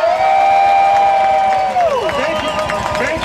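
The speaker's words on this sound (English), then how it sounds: "So let's give them a round of applause." A rally crowd at the Wisconsin Capitol claps and cheers loudly and steadily, with long, drawn-out whoops that slide downward in pitch.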